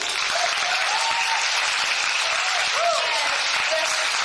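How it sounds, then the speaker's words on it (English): A live audience at a regional event claps in sustained, even applause that stays steady throughout, with a faint voice briefly audible beneath it. "we wanted to give her another round of applause for being so awesome."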